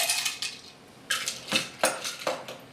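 Ice cubes for a spiced Manhattan-style cocktail clatter into a glass, about six bright, close clinks and knocks in quick irregular succession with quiet gaps between.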